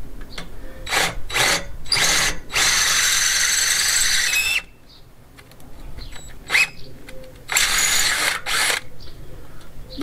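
A power drill, hammer mode off, whirs in short bursts and longer runs enlarging holes in a stone courtyard wall, bit squealing as it bores, with quiet pauses between spurts.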